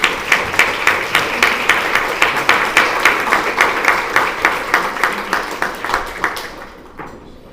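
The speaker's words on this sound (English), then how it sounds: "please stand up in addition to Madison for a round of applause" A banquet crowd at an annual awards dinner gives loud, rhythmic applause, claps falling into a steady pulse before the sound tapers off and fades out at the end.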